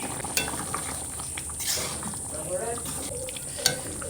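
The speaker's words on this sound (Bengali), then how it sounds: "এই দেখো আমার তরকারি কীভাবে ফুটতেছে।" Egg, potato and pointed gourd curry bubbles in a pan, a soft busy sizzle with occasional small clinks of a utensil against the pan, steady and close throughout.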